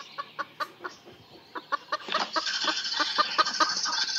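A chicken at a spring equestrian show clucks in a series of close, sharp, rhythmic clucks that build into a denser, louder run of calls, with no talking.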